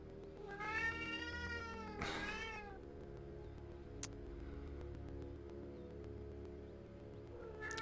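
A hungry cat in the Vertigo video game meows loudly and insistently, two long drawn-out meows early on over a steady low background hum, with a short faint meow near the end and no talking.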